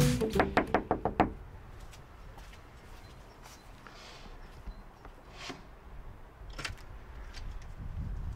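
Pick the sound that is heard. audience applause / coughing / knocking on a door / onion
knocking on a door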